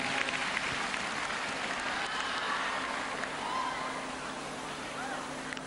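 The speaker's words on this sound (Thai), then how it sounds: "ขอเสียงปรบมือให้กับ เทรนเนอร์ทุกๆทท่านนะครับ" Audience applause for the trainers on the AF3 talent show stage, a soft, continuous patter of clapping from a crowd, fairly distant and steady, with a faint sustained tone underneath.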